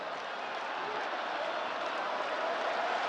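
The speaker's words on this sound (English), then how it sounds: "And the crowd, Shimmy. Yep, they've come alive. They're certainly turning the volume up." Rugby stadium crowd at an Argentina versus South Africa match roaring loudly after a big hit, a dense steady wall of cheering and noise with no break.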